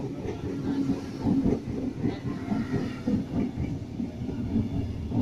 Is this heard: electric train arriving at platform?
yes